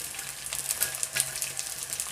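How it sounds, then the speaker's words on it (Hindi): Edible gum (gond) frying in hot oil while being stirred, a close, steady crackling sizzle with small pops and bursts of stirring. "इसको हमने घुमाते हुए फ्राई करना है ताकि अच्छे तरीके से चारों तरफ से हो जाए।"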